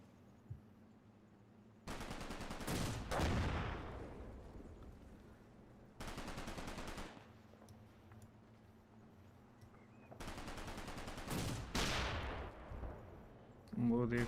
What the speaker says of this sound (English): And there's a machine gun.